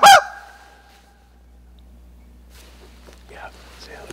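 Wild turkey gobbling on private land during a spring hunt, one loud sharp gobble at the very start, followed by near silence, with faint whispered talk later.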